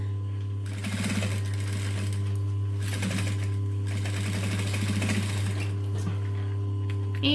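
A sewing machine running at a 2.5 stitch length while it stitches a fabric pouch, giving a close, steady mechanical hum and rapid needle chatter that rises and falls in short runs.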